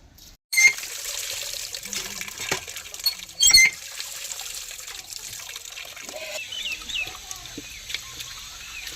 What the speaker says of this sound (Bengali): চিংড়ি মাছ ধোয়া হয়ে গেছে।